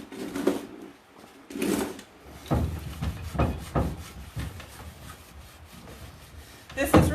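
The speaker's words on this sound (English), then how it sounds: "I'm going to spray it over the face of my drawer" Cleaner sprayed onto a wooden drawer face during furniture repair, then wiped to lift sanding dust: a few short spray bursts followed by rhythmic rubbing strokes, close and moderately loud.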